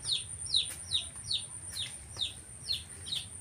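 Young gà nòi chicks, a Vietnamese fighting breed, kept apart in a small coop on a free-range farm, peep in a steady rhythm of about eight high, clear chirps, close and fairly quiet over a low background rumble.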